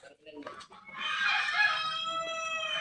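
Chickens clucking and calling nearby, a sustained squawking cry over quieter background clucks.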